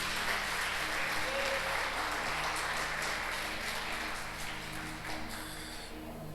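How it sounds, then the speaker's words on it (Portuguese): A church congregation applauds in a steady, moderately distant wash of clapping that slowly fades toward the end, with faint background hum underneath. "Vamos aplaudir o Senhor Jesus."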